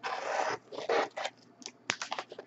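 A knife slices through the tape of a Newegg cardboard shipping box in short rasping, zipper-like strokes, close and quiet, a long cut followed by several brief scratchy pulls.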